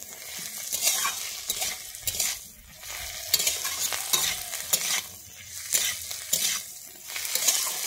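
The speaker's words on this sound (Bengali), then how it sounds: "যতক্ষণ টমেটো না সিদ্ধ হয় আমি ততক্ষণ কিন্তু এটাকে ভাজতে থাকবো।" Tomato masala with salt for butter chicken fries in a pan, giving a continuous close sizzle broken by repeated rhythmic scraping strokes of a spoon stirring and turning it, with no talking.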